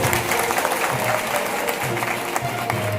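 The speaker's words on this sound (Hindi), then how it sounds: "एक बार ताली बजा के उन लोगों का हौसला अफजाई कीजिए" Audience applause at a community felicitation ceremony, a dense, steady wash of clapping from a crowd in a hall, continuous for the whole moment.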